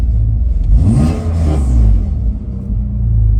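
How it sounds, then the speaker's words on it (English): A drift car's engine is revved hard, a loud, close, rumbling roar that swells and falls through a couple of throttle blips, with no one speaking. "We'll just rev it up a few more times, make a bit more mess, and then we'll get on with the compression test."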